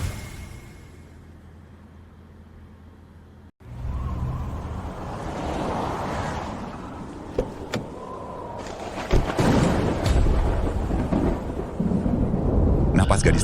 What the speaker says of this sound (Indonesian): Di tengah badai salju ini kenapa ada guntur dan kilat?